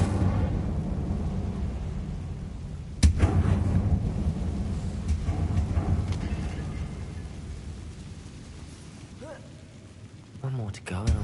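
Incendio fire spell cast in Hogwarts Legacy: one sharp, loud burst with a booming onset stands out over a steady rumbling game backdrop, followed by softer crackles and a voice speaking near the end.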